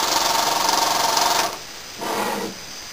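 A small single-cylinder oscillating steam engine model runs fast with a rapid, even mechanical chatter. It cuts out briefly, then resumes for a shorter burst, close and fairly loud with no talking.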